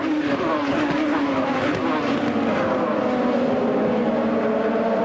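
An IndyCar race car at Watkins Glen screams along, recorded onboard with a constant, loud high-revving engine wail that shifts pitch through corners, while a commentator talks over it.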